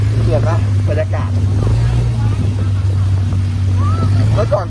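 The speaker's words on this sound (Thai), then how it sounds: "ว้าวเรือหางยาว" A Thai longtail boat engine drones steadily and loudly on a river, with water noise around it and people talking over it throughout.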